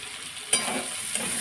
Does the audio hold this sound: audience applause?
no